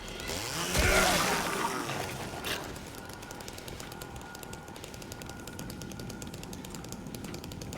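Chainsaw weapon in Silent Hill 2 roars with a loud, buzzing burst at first, then settles into a steady rattling chatter that runs on under a noisy fight.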